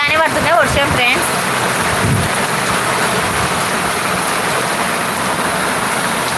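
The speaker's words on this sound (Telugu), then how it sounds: "చూడండి అసలు ఎంత ఫుల్ వర్షమో" Heavy rain pours steadily near open farm fields, a dense continuous wash of noise that stays loud throughout, with a voice speaking briefly over it at the start.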